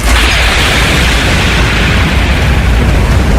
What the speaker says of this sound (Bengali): আচমকা আবার একটা ঝড়ের ঝাপটা এসে দরজা জানলার উপর আছড়ে পড়ল,